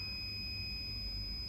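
High, steady electronic tone from the buzzer of an ultrasonic distance sensor circuit, a continuous faint beep over low background hum.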